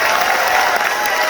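A crowd applauds a band at an 80s-themed cruise event, producing a brief, loud, dense wash of clapping and cheering with no break.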